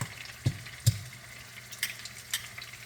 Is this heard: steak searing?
yes